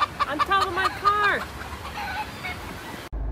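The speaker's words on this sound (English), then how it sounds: "Chicken on top of my car." A chicken perched on top of a car clucks and squawks loudly and close for about a second and a half, its calls trailing into quieter clucking and background noise before cutting off.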